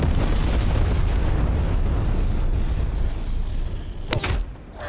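A grenade explosion in Black Ops Cold War gameplay booms loudly at the start and its heavy rumble decays over several seconds, followed by a couple of sharp crackling bursts near the end.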